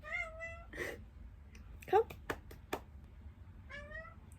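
A pet cat meows several times indoors, drawn-out calls with pauses between them, while someone speaks softly to it.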